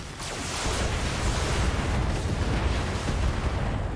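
A mech's alpha strike destroying an enemy vehicle in the Battletech video game, a loud sustained roar of blasts and explosions rolling on without pause, rumbling and crackling across the full stretch.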